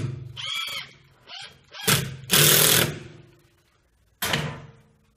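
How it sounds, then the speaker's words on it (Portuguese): A power screwdriver drives screws into wood while building a homemade sheet-metal brake, heard as short close bursts of whirring at full loudness, one long burst in the middle, separated by handling knocks and quiet gaps. "agora que eu vou utilizar a parafusadeira."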